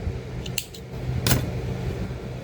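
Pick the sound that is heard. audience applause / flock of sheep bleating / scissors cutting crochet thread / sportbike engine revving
scissors cutting crochet thread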